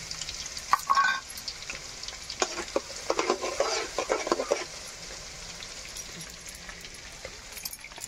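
Garlic frying in hot oil sizzles close by while a spoon scrapes and clatters against the pan in a flurry of strokes, then settles to a faint, quiet sizzle.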